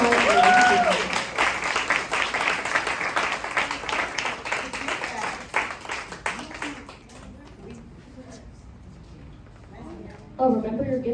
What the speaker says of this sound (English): Can we get one more round of applause for the Tashee Inc?